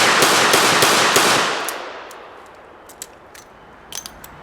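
A revolver speedloader being pushed into the cylinder, heard after a loud, rough burst of noise as a few sharp, close metallic clicks at irregular intervals against a quiet background.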